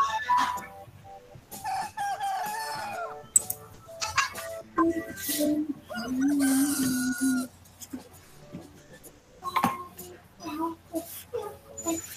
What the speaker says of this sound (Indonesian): Telur ayam akan dierami oleh induk ayam